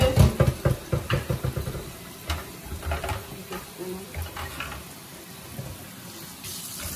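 Water sloshes and splashes in quick rhythmic bursts as rice and peas are washed by hand in a bowl, fading to softer swishing, with a low hum underneath and a person talking now and then.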